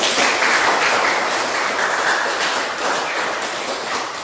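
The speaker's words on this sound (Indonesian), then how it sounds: "Tepuk tangan bersama dulu" A school class applauding together in a classroom at a vocational high school, producing a dense, continuous roar of many hands clapping, loud and even throughout with no talk over it.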